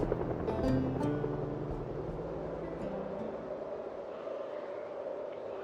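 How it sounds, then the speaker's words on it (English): Helicopters in the zombie survival game Project Zomboid fly overhead, a steady low rotor rumble that swells near the start and then holds as a continuous drone, alone with no talk. "Should keep us entertained while these helicopters keep flying overhead."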